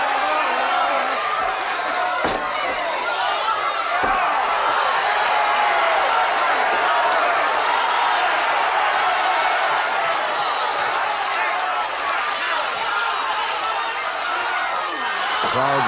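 A loud, unbroken crowd roar fills the hall at a British professional wrestling bout between Judo Alfred Hayes and Steve Veidor, with a commentator talking over the din.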